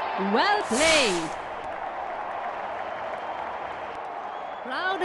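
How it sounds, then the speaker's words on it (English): A cricket video game crowd breaks into applause and cheering after a big hit, a broad steady roar, with an excited commentator's voice near the start and end. "Crowd is exhilarated."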